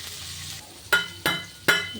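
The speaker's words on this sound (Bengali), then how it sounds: "বরবটিটা দিয়ে কিছুক্ষণ এভাবে নেড়ে ছেড়ে 2 মিনিটের মতো" Raw yardlong beans sizzle in a pan, frying under a steady hiss while three sharp stirring scrapes land at roughly even intervals, close and moderately loud, with no talking.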